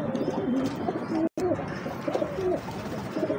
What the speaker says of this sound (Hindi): फिरोजपुरी कबूतर है